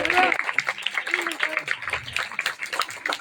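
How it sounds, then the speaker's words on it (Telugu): A group of people at a Sunday school gathering clap together in a brisk, uneven burst of applause, mixed with voices talking over the clapping. "క్లాప్స్ కొట్టాను."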